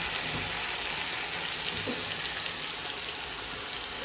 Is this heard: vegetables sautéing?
yes